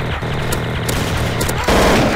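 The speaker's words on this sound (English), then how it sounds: "See, I just shot you there, Evan." Automatic gunfire in the Garry's Mod Gun Game mode, a dense stream of rapid shots that grows louder and heavier near the end, with no talking.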